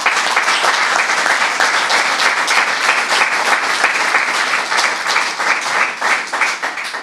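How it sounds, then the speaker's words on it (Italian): An audience claps at a basketball club's press presentation of a new player, a loud sustained round of applause that holds steady and thins slightly toward the end. "Vi chiedo cortesemente di fare un bel applauso di incoraggiamento."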